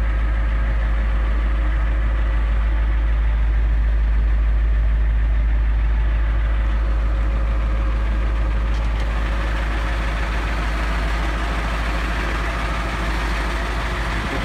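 A 1992 International 4600 rollback truck idling with its PTO engaged, a loud, steady low diesel rumble that holds constant throughout with no talk.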